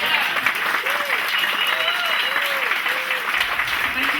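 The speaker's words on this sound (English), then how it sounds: "I would like a round of applause for the restaurant owners." An audience at a gathering on sustainable fisheries applauds the restaurant owners, a steady round of clapping with a few whoops and voices rising over it.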